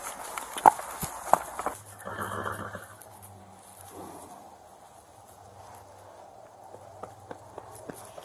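A loose horse's hooves clop along a roadway at a walking pace, a few sharper strikes standing out, with soft background noise throughout.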